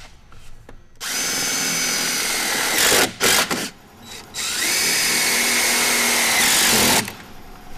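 A power tool drives screws into a sprocket bracket on a desiccant dehumidification cassette: a quiet tap, then a long whirring run, a few short bursts, and a second sustained spin before stopping.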